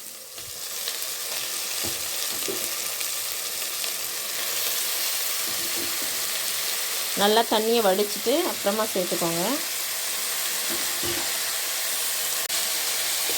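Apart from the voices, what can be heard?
mutton frying and being stirred in a pan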